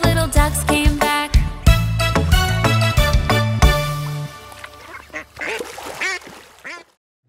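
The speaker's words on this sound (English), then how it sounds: "Daddy duck said quack, quack, quack, quack" Strong quacks in a children's song about five little ducks, a rapid run of loud, rhythmic quacks over bright musical accompaniment that then trails off into softer scattered quacks before falling silent.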